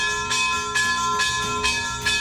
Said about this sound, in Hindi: घंटी की आवाज आ रही है,